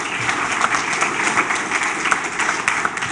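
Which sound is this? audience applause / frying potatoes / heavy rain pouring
audience applause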